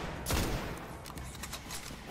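Gunfire rings out in the video game Destiny: one loud, close burst early on, then scattered, fainter shots crackling in the distance.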